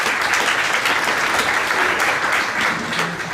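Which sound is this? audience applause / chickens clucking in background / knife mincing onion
audience applause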